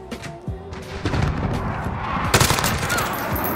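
Rapid gunfire in the video game Modern Warfare, loud clustered automatic shots and bursts, with a heavier blast partway through, layered over a busy battlefield din.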